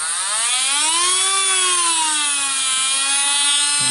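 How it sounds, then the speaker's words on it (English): A repaired Dremel 800 10.8 V lithium-ion rotary tool whines steadily, its pitch sweeping up and down as the speed control is varied, loud and close with no talking. "so we now have a Dremel with functioning speed control again"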